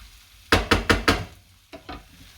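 Potatoes part-cooking for hash browns get stirred in a pan, with four sharp knocks from the utensil in quick succession, a short pause, then two softer knocks over a faint sizzle.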